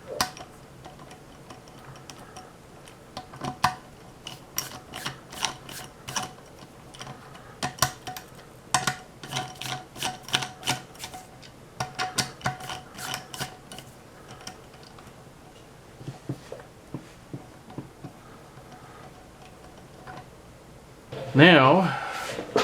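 A ratchet clicks in quick bursts while bolts are tightened during a camshaft install on a 1994 Saab 9000 B234I engine, close and crisp with pauses between runs, and a brief louder clatter at the end.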